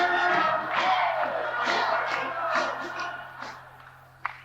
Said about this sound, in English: The crowd yells hey in the background.